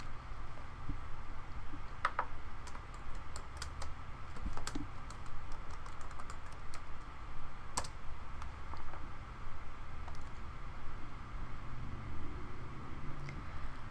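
Keys clatter in irregular quick bursts as someone types a search into a computer, soft and close over a low background hum, with no one speaking.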